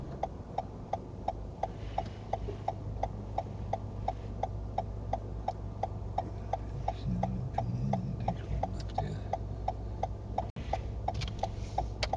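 Car turn indicator ticking at a steady, even pace through the whole stretch, clear over a low cabin engine hum on a Chester driving-test route.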